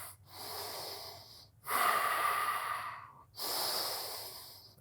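Three long, deep breaths during a heated yoga practice, each a steady broadband rush of air lasting over a second, separated by short pauses, close and fairly loud with no talking.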